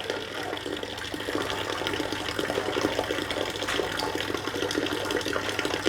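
Water steadily pouring into a storage tank fitted with an automatic fill setup, a continuous rushing, splashing flow heard close and alone without pause.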